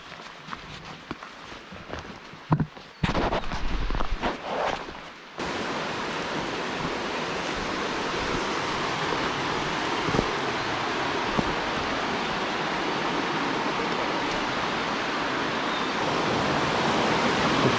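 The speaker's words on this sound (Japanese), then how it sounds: "二段の滝みたいな感じだね。" A two-tiered mountain waterfall roars in a broad, steady rush that sets in loudly after a few seconds of quieter rustling and footsteps on the trail.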